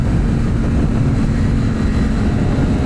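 Riding without an exhaust, a BMW S 1000 RR motorcycle produces a constant, close, loud engine drone, an even mechanical buzz that holds throughout with no voices.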